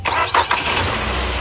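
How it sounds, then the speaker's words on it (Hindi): Nissan Altima engine cranking but failing to start, a short burst of starter whirring and engine turning over with uneven pulses, loud and close, ending in a low rumble. "गाड़ी स्टार्ट नहीं थी हो रही, करंट कर रही थी बट स्टार्ट नहीं थी हो रही।"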